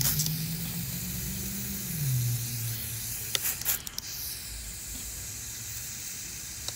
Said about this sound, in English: I could hear hissing, so we used the old soapy water trick